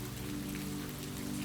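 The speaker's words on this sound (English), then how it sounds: "The hush of the rain was constant company" Steady rain patters softly and evenly on a surface on a foggy isle in Scotland, a faint continuous hiss with no other sounds.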